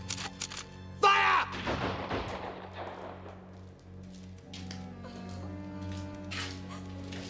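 A firing squad lets off a single rifle volley, a sharp loud crack that decays into a rolling echo beneath a low steady background hum.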